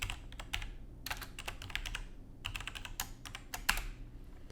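Keys clatter on a computer keyboard in quick bursts of typing separated by short pauses, close and fairly quiet, with no voices.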